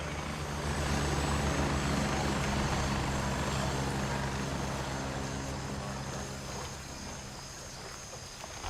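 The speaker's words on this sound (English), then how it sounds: "Another chopper headed your way." A helicopter in the video game Gray Zone Warfare flies close by, its loud, steady rotor and engine drone filling the scene before easing off slightly toward the end.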